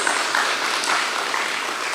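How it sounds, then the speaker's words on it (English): Audience applause at a school awards ceremony honouring IGCSE exam results, a steady dense wash of clapping at moderate level throughout, with no voices over it. "Ladies and gentlemen, that is worth an applause"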